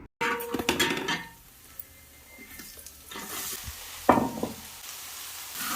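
Sliced onions sautéing in a pan over browning ginger-garlic paste for a home-style chicken roast: a close, steady sizzle with stirring scrapes and a sharper clatter of the spatula near the end, no voices.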